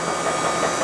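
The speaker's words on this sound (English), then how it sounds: "It's a gear shaper. It's going up and down there, cutting the teeth of the gear" A gear shaper in a machine shop cuts teeth into a gear blank, giving a steady, dense mechanical whir and hum that holds even throughout, fairly loud, with no talk over it.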